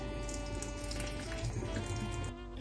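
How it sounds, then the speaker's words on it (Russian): Water runs steadily from a tap as alabaster candle holders are rinsed under the stream, a close, continuous rushing splash with no talk, briefly shifting in tone near the end. "Мы это сделаем под обычной струей воды."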